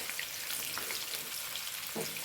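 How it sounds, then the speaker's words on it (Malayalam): Steady, dense sizzling of mango pieces frying in hot oil for pickle, continuous and close, with no voices. "അതേമാതിരി കുറച്ച് കുറച്ചായിട്ട് വറുത്തെടുക്കുന്നുണ്ട്"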